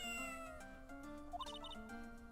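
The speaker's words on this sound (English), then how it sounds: "So I guess this is Shoe. Ah, what a lovely cat" A cat meowing in the Phoenix Wright: Ace Attorney – Justice for All video game, a short meow over soft background game music with chiming tones.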